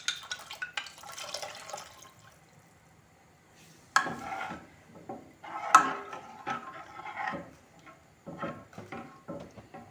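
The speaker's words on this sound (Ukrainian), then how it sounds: "вливаю воду" Water is poured into a pan of vegetables stewing in sour cream and tomato sauce. It comes as a quiet, intermittent trickle and splash with a few louder spills and clinks, fairly close and otherwise calm.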